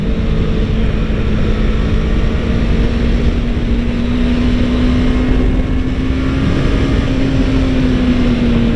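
A 2015 Yamaha R3 motorcycle engine droning steadily while being ridden, a loud continuous tone that rises gently in pitch as the bike accelerates, with wind rush and no talking.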